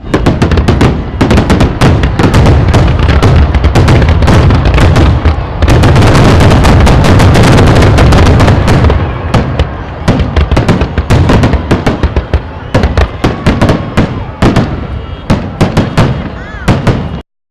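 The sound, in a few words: fireworks show exploding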